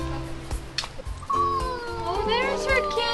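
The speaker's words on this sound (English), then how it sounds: "Oh, there's her kitten." A kitten with one green eye and one blue eye, on a sailing trip in the Marquesas, gives several close, high mewing cries amid background voices and chatter.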